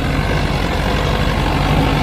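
Swaraj, Sonalika and Mahindra tractors racing side by side, their diesel engines a loud, steady low rumble that holds without a break for a couple of seconds, with no voices over it.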